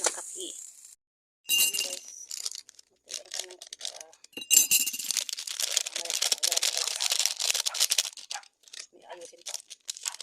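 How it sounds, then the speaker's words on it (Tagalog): Washed cooking pots are put away in a home kitchen, with irregular metallic clinks, knocks and rustling clatter up close, broken by short pauses. "Ayos ko yung mga kaldero na hinigasan ko kahapon."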